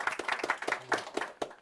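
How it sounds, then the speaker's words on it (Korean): A studio audience claps for a talk show guest, a short burst of close, scattered hand claps. "박수 부탁드리겠습니다"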